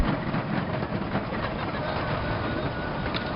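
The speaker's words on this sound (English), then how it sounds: "the natural frequency of the roller coaster is very distinct compared to anything else" Steady, loud rumbling ride noise and vibration aboard a moving roller coaster, with a continuous broadband roar and faint rattling clatter throughout, no pauses or distinct peaks.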